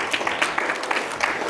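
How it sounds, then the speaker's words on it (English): Panel audience at a fintech event applauding a panelist being welcomed to the stage, a short burst of moderate, fairly distant clapping from a small crowd. "Everybody give a round of applause to David."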